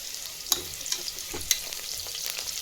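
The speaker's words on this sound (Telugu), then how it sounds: "చూడండి, ఉల్లిపాయ బాగా ఫ్రై అవుతుంది" Sliced onions frying in a pan for chicken biryani, a steady close sizzle broken by a few sharp clicks and scrapes as they are stirred, with no voices.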